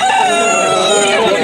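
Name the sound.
rooster crowing at a poultry market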